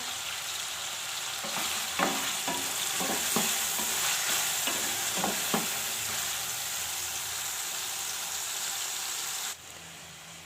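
Steady sizzle of tomatoes and green chilies frying in a pan, with a few scraping stirs near the start, then the hiss continues alone.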